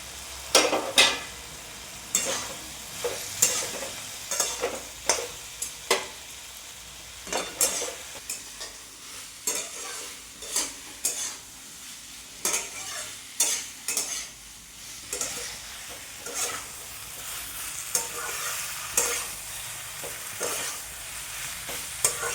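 Potatoes and cauliflower fry in spiced oil, a steady sizzle broken by repeated scraping, clattering stirs of a spatula in the pan, roughly every second or two, close and clear with no talking.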